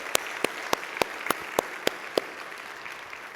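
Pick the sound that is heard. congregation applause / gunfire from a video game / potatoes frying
congregation applause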